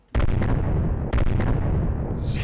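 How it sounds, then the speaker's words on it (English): A ship cannon fires in the video game Homebound, giving two loud, heavy booms about a second apart, each followed by a sustained rumbling roar that keeps going to the end. "Anything just shoots from the ship cannon."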